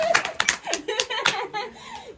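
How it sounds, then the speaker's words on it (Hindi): Hands clapping at a home family gathering, a quick burst of claps mixed with voices and light laughter. "ताली बजाना।"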